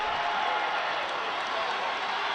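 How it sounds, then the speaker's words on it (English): A steady roar of football crowd noise fills the stadium ahead of a 41-yard field goal attempt, a dense, continuous wash of voices and cheering with no breaks. "Crowd making some noise."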